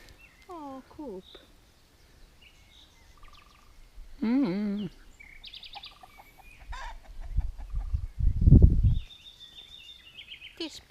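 Chickens in a coop cluck and squawk in scattered bursts, with one louder call near the end, while people talk quietly in the background.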